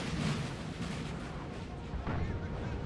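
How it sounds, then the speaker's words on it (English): A large French artillery battery firing in Napoleon: Total War, a dense continuous rumble of cannon fire rolling and booming together, with a heavier cluster of discharges toward the end; a voice talks over it. "Artillery for France already firing. And actually, massive artillery battery"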